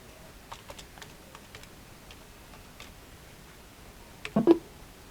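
A computer keyboard is typed on while entering accounting data in Tally Prime: sparse, light key clicks spread across several seconds, ending in a quick, louder cluster of presses, with no talk.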